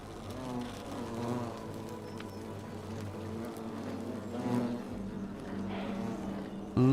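Angry hornets' nest in a video game temple, a dense swarming buzz that rises and falls steadily for several seconds at moderate loudness, with no voices.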